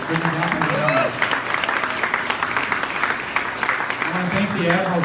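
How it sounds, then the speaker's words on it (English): Audience applause for volunteers at the reopening of the Admiral Theater, a steady crowd clapping that fills the whole stretch, with voices talking and calling out through it. "Please give our volunteers a hand."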